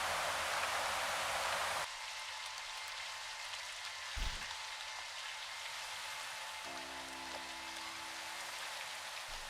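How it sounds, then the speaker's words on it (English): Heavy rain from the TV show Lost pours down as a steady, loud hiss that shifts in intensity partway through, with a brief low thump in the middle and no talking. "That's some crazy ass rain."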